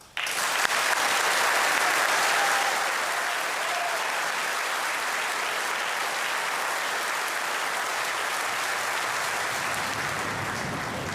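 A large crowd gives sustained applause for a graduating Year 12 class at a school farewell, a sudden loud onset settling into steady dense clapping with no talk.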